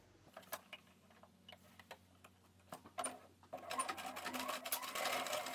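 A sewing machine stitches a trouser hem inset with its facing, beginning with scattered needle ticks and clicks, then settling into a faster, denser run of stitching near the end, with no talk.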